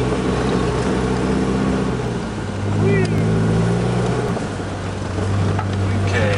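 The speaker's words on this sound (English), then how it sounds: "Check this out. Fishtailing all through here." A 1984 Nissan 4x4 pickup truck fishtailing, heard as a loud, steady engine drone with a deep rumble that swells and eases slightly, recorded close from inside the cab.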